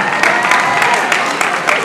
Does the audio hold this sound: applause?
yes